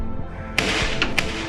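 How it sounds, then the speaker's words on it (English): Staged fake gunfire during an active shooter drill in school halls: a sharp bang followed by two more quick cracks about a second later, echoing over a low background hum. "Suddenly, a new round of gunfire."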